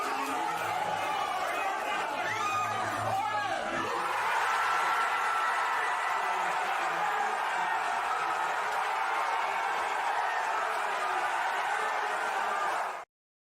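Packed bar crowd reacting during the NBA draft lottery, a dense roar of cheering and chatter that swells after a few seconds and stays loud until it cuts off abruptly; voices talk underneath.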